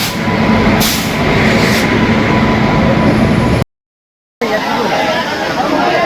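A train rolls into a crowded station during the Bhadrak Kali Puja festival in Odisha, its loud rumble and screech mixing with a busy murmur of travellers talking nearby.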